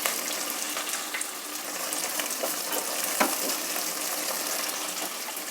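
Curry leaves and peas sizzle and crackle in hot frying oil with a steady hiss and occasional stirring scrapes, close and continuous.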